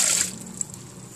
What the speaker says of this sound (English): My shiitake mushrooms are done, so let me go ahead and strain them as well.